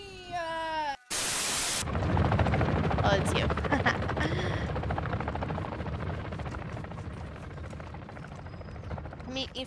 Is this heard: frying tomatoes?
no